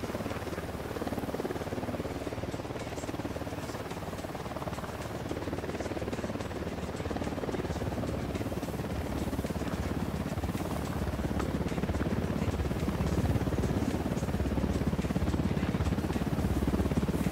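A steady, dense rotor chop drones throughout, growing slightly louder over time with no talking.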